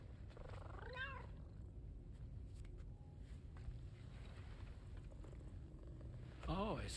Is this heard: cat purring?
yes